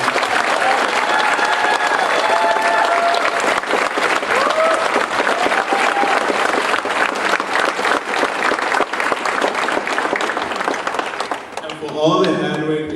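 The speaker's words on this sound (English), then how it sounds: "Please help me give a big round of applause to Ms. Jenna Leidig and help the Applebound program." Sustained, loud audience applause at an Upward Bound award ceremony, dense clapping from a large crowd that holds for over ten seconds, then fades as a voice returns.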